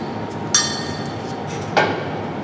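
A flint striker sparks twice to light an oxy-acetylene cutting torch fed with acetylene, two sharp metallic scrapes spaced about a second apart over a steady background hiss.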